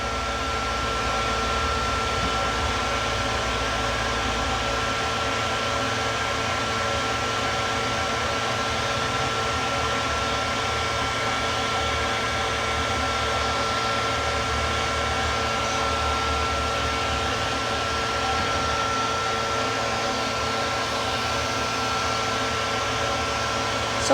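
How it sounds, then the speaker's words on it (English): A pet grooming blow dryer, lighter and gentler than a force dryer, runs continuously with a steady whirring hum and airy rush, unchanging throughout. "This is not a force dryer, it's a lot lighter on sound-wise and doesn't blow the air as hard"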